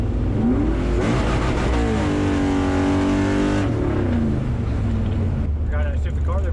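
A 1972 Camaro revs hard and accelerates on a smooth street, the engine note climbing, dropping sharply at a gear shift, then pulling up again, loud and close, with voices talking over it.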